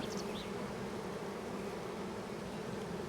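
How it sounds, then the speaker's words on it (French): Honeybees buzz in a soft, continuous hum at a hive opened during queen rearing, steady and fairly quiet with no voices. "Les dernières abeilles."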